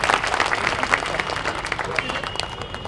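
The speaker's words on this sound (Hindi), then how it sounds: "ताली बजा के उनका स्वागत।" An audience at a Congress party political meeting claps to welcome a guest, a dense burst of applause that slowly thins out, with voices mixed in.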